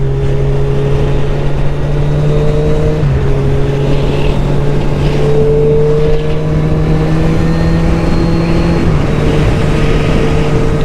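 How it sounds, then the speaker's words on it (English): A 2017 Kawasaki Z1000 SX performance motorcycle being ridden on the road, its engine droning steadily and loudly throughout with shifting tones and constant wind rush, no talking. "2017 Kawasaki Z1000 SX. It's the performance model."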